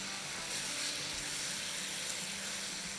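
Eggplant and spices fry in a pan for baingan bharta, giving a steady, moderate sizzling hiss that continues without a break.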